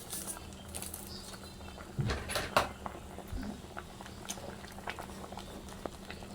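Sinigang na bangus, a sour milkfish soup, simmers in a pot with soft, quiet bubbling and a few faint knocks, fairly low and steady throughout.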